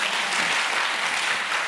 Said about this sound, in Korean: 이 박수는 주님께서 받으셔야 할 박수입니다